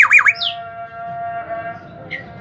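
Clear, fluting whistled call of a black-naped oriole (kepodang), a bright wavering phrase at the start with a faint later note, heard close against a steady background hum.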